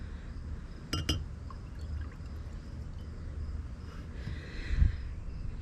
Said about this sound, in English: We're also going to add our 2 ounces of sparkling water.